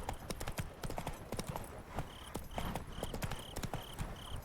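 Roach, Geralt's horse in The Witcher 3, trots with steady rhythmic hoof clip-clops, close and clear, over a faint game ambience with a repeating high tone.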